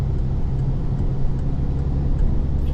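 A car on the road accelerates during a drive from town toward the motorway, a steady loud low engine drone with road rumble holding constant in the cabin and no speech.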